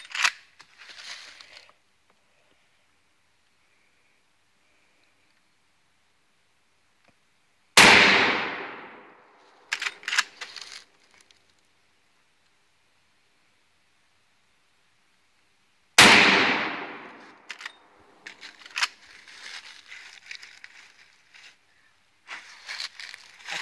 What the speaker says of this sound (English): Three shots seem to function.